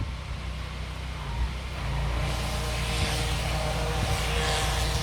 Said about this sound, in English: Oh, they're cleaning the roof. That's what they're doing. Okay. Noisy. It's one of those jet spray things.